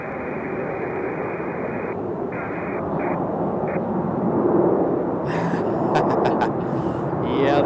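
A 900-series airliner arriving from Atlanta, Georgia, at Raleigh-Durham airport makes a loud, steady jet roar that swells slightly toward the end. Brief faint voices break in near the close.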